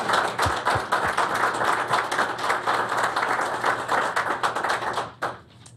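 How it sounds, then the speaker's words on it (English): Loud, close applause at a school board business meeting honoring the Smithsburg boys track team, continuous clapping that cuts off abruptly near the end, leaving a brief quiet tail. "A round of applause"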